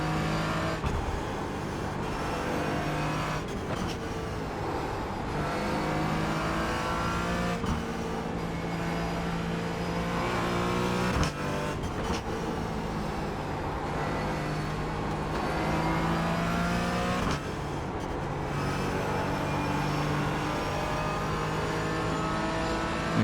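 Race car engines roar continuously on track in close company with a Porsche and a McLaren, a loud sustained drone with repeated rising and falling revs and gear shifts, heard from on board without talk.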